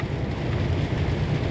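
Heavy rain at the Scottish border, heard from inside a truck cab, makes a steady, dense roar with no gaps, mixed with a low rumble of road and engine noise.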